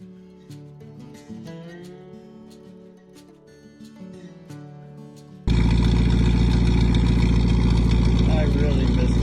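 A 1954 Chevrolet 3800 truck engine runs with a loud, steady, close rumble after several seconds of talk over quieter background sound.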